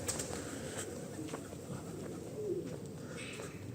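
A turtle dove coos faintly outdoors, low soft phrases blending into a constant background hiss, with no talking.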